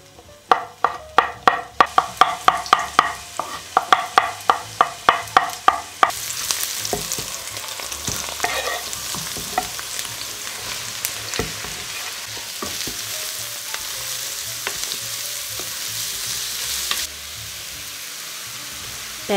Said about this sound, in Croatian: Pečurke i luk ispržite na najjačoj temperaturi, znači na malo ulja